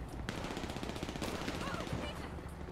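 Gunfire in the GTA 5 video game during a police gang-unit patrol, a dense burst of rapid shots over continuous background game noise.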